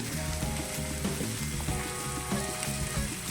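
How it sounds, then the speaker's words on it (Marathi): Tomato added to a hot frying pan for paneer tikka masala, giving a steady, close sizzle and frying crackle that runs throughout with no talk over it. "त्याच्यानंतर आपण हा टॅमॅटो घालूया."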